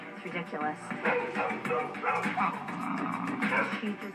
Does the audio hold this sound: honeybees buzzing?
no